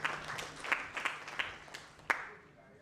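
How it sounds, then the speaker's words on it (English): Sparse, faint applause from a law conference audience, a handful of scattered distinct claps spaced unevenly over a few seconds and fading out. "A round of applause for yourselves, please"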